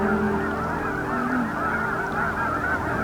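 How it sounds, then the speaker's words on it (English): A flock of geese near a gravel bar island at Beaverhill Lake, honking in a dense, overlapping chorus that runs continuously and loud, with many birds calling at once. "It looks like a bunch of geese."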